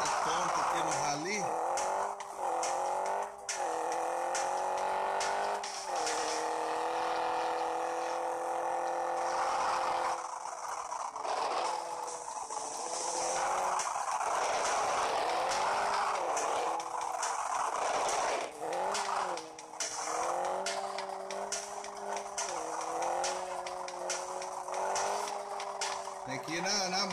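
Rally car skidding and drifting across desert terrain in the racing game Rally Fury, with engine whine rising and falling continuously and tire scrapes, while someone talks excitedly over it throughout.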